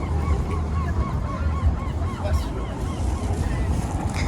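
Gulls call repeatedly over a dense, rumbling background of wind and outdoor noise in the town centre of Wismar.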